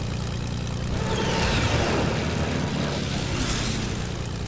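A video game plane flies fast with a loud, continuous engine roar that swells and shifts in pitch as it speeds past.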